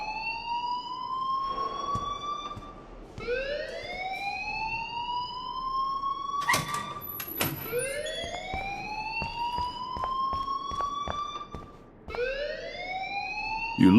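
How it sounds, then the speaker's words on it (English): A school alarm in Life is Strange rings in repeating rising electronic whoops, several cycles in a row, loud and near, with occasional clicks and thumps between sweeps. "please turn off that alarm since that's your job."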